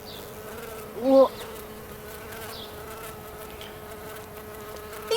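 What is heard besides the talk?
bee buzzing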